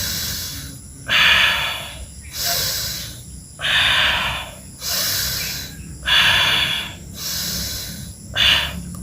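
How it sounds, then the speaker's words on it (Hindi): Deep, audible breaths during a gentle yoga shoulder-rotation exercise: slow alternating inhales and exhales, about eight strong airy breath sounds in a steady rhythm, close and fairly loud with no talking. "सांस भरते ऊपर उठाना, सांस को छोड़ते नीचे आना।"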